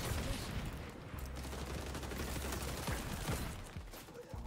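Gunfire in the video game XDefiant crackles in rapid, dense bursts for several seconds. The shots are fairly quiet and sit beneath a busy layer of game sound.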